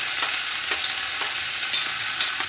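Tomato and ginger sizzling in a pan for a pomfret fish curry, a steady bright frying hiss with a few stirring scrapes, no voices.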